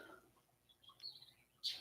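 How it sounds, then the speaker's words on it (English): Small birds chirp outdoors in short, scattered calls, quiet and a little distant, with a brighter, louder chirp near the end and no talking. "I apologize for these birds back here"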